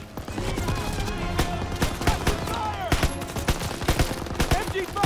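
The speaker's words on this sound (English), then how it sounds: "now I can get on the MG" A mounted machine gun in Call of Duty WWII fires rapid, steady bursts of loud gunfire, mixed with other battlefield shots and voices shouting in the background.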